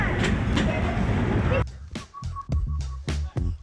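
A train rolls past in Sandusky, Ohio, loud and close at first as a dense rumble, then thinning into a sequence of sharp wheel clacks over the rail joints with a faint tonal whine in between.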